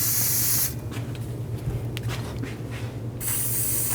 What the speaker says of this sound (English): I'm just gonna use some rust penetrant on the studs on the back